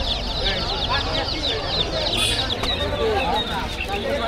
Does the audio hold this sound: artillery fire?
no